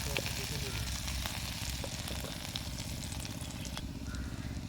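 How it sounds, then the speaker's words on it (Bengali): Steady crackling sizzle of grated ginger frying in hot oil for cabbage spring rolls, continuous and close throughout, with no voices. "আদাটা খুব সুন্দর হয়ে ভাজা হয়ে গেছে"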